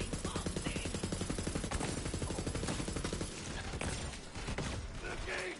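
Enemies fire on the player in the video game Borderlands 3: loud, continuous rapid automatic gunfire with a steady stuttering rhythm, joined by mechanical clatter and a few sharper bursts near the end.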